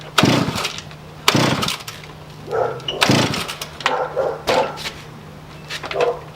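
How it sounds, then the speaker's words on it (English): A pocket rocket minibike engine with the choke down is pull-started several times in a row. Each yank gives a sharp, close rasping burst that fades without the engine catching. "I'm gonna do a few pulls"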